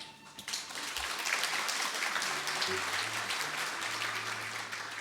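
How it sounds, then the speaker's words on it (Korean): Welcoming applause from guests at a university president's farewell ceremony, a steady wash of many hands clapping that swells in after a quiet start and holds evenly for several seconds. "한 분 한 분 소개해 드릴 때마다 환영의 박수 부탁드립니다"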